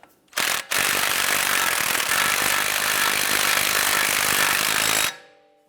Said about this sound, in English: Let's go ahead and snug down our axle nut.